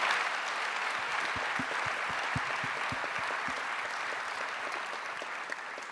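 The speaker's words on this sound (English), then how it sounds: "Could I ask the audience to give a round of applause to this panel?" Audience applause in a large hall at the close of a plenary conference panel, steady dense clapping filling the space from start to finish without talk.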